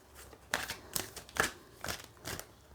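Tarot cards being handled and shuffled, heard as several short, crisp papery riffles spaced about half a second apart, fairly close and with no talking.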